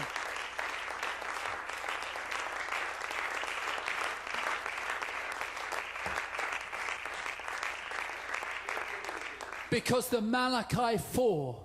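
A church congregation breaks into sustained applause and acclamation at a revival-style sermon, dense steady clapping filling the room for about ten seconds before a preacher's voice cuts back in at the end.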